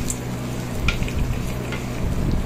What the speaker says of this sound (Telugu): సో ఇప్పుడు మనం తురుపెట్టుకున్న కొబ్బరి వేసుకోవాలి. మొత్తం బాగా కలుపుకోవాలి